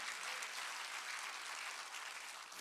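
A church congregation claps in praise during a sermon, a steady, fairly distant wash of applause lasting nearly three seconds without voices.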